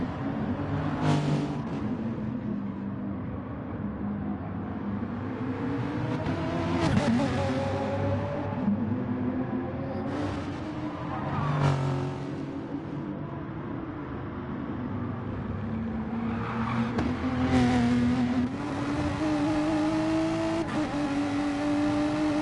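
GT3 race cars, a Renault and a Mustang, howl through a racing video game at Interlagos, with engines revving up and down in repeated sweeps and loud bursts as cars pass close by.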